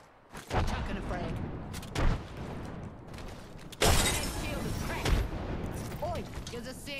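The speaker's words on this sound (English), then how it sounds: "Chucking a frag." A frag grenade thrown and exploding in a video game, with several booming blasts and gunfire-like bursts at irregular intervals, while a voice talks over the action.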